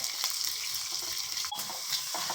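Ginger and green chillies frying in oil in a home kitchen for a side curry, a steady close sizzle and crackle with a few stirring scrapes and no talk.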